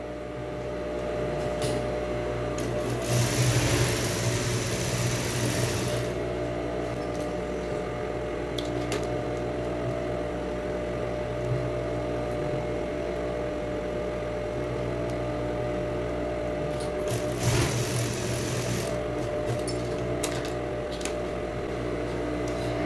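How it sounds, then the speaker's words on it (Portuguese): A sewing machine running a long, continuous gathering stitch along a child's dress sleeve, a steady close mechanical hum lasting over twenty seconds with two short louder bursts and no voices. "Vou passar uma costura desde o começo até o final."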